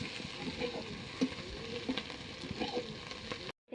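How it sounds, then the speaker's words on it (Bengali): Chopped onion fries with dried red chilli and bay leaf in oil in a kadai, a steady soft sizzle with faint stirring scrapes, then it cuts off abruptly near the end. "ভালো করে পেঁয়াজটা ভেজে নেব তেলের মধ্যে।"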